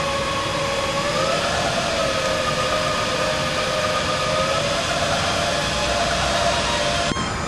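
An ACER E-Lathe 1440V lathe runs steadily with a loud, continuous motor whine and hum that shifts slightly in pitch partway through, alone without talk, ending with a brief click near the end.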